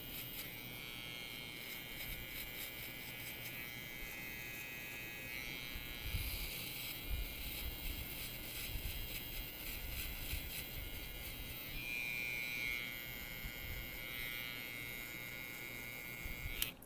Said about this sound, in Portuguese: só com a máquina de acabamento, olha, eu vou até deixar uma faixinha ali